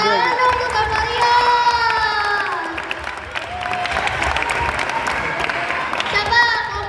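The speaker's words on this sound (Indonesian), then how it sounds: "Tepuk tangan dong untuk Kak Maria." Crowd applause from a talk-show audience, with cheering children's voices and shouts mixed in, sustained and fairly loud across the whole stretch.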